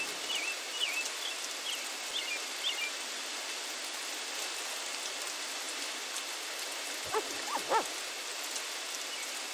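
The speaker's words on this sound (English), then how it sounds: "It's raining!" Steady rain in the murder mystery RPG The Magister falls as a constant, even hiss through the whole stretch, with a few faint bird-like chirps early and a brief cluster of soft knocks near the end.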